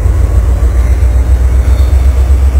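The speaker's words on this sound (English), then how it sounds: "Here, BN train number 33 is hitting the main en route to the Pacific Northwest" A Burlington Northern freight train carrying autoracks runs along the main line toward the Pacific Northwest. Its deep, loud continuous rumble sits close by and steady, with no voices over it.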